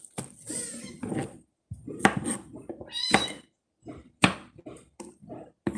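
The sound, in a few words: cat meowing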